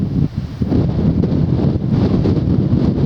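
Gusty wind buffets a microphone on a coastal walk from Lewes to Seaford, a loud, steady low rumble with irregular thumps and flutter and no voices.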